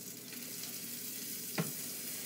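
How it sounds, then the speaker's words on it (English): Steady sizzling and crackling of hobo pies frying in a pan on a stovetop, a continuous hiss with one brief louder clatter near the end. "Hear the sizzle?"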